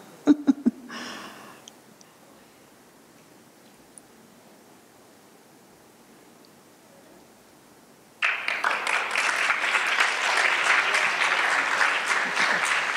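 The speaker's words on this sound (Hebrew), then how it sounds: "מחיאות כפיים" Audience at a playback theatre show bursts into loud, sustained clapping after a mostly quiet stretch, following a few sharp claps and a brief murmur at the start.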